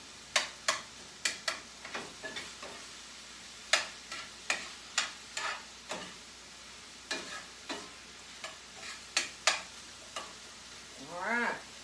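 Filling for BBQ cups browning in a pan: a quiet background sizzle punctuated by many sharp, irregular pops and ticks, close and fairly soft, with a short squeaky sweep near the end.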